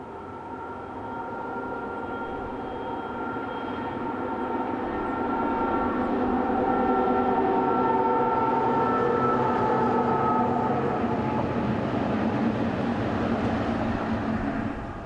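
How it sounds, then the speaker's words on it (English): Locomotive 6501 rumbles past hauling three BB36000 locomotives down from the border station at Modane. The heavy, continuous rolling roar swells to a peak midway, then holds steady, with no voices. "Just north of the town we see 6501, hauling 3 BB36000 locos down from the border station at Modane."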